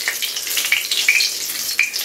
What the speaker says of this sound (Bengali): নেড়ে নেব ফোড়নটাকে